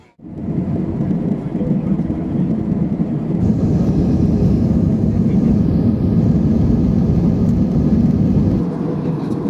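Inside an airplane flying from Taiwan to Kinmen, a loud, steady low engine drone fills the cabin. It rises within the first second and holds unbroken to the end.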